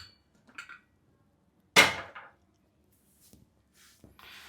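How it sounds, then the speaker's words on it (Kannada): A pressure cooker lid shuts with one sharp, close clank over a pot of spinach dal with turmeric, oil and curry leaves, followed by a few faint knocks in an otherwise quiet kitchen. "ಕುಕ್ಕರ್ದ ಮುಚ್ಚಳ ಮುಚ್ಚಿ"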